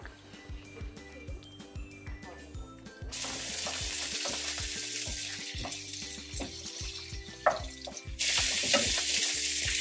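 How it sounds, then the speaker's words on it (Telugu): Onions and green chillies hit hot oil already holding dried red chillies, bursting into a loud, close sizzle, with stirring and occasional clinks from the pan. "ఇప్పుడు నేను ఎండుమిర్చి వేసేసినాక ఆనియన్ చిల్లీస్ వేస్తున్నా."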